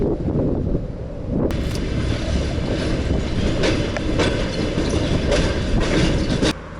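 A one-car rail car in Georgia, ridden from close by, rattles and rumbles steadily, with clattering wheels and wind buffeting throughout.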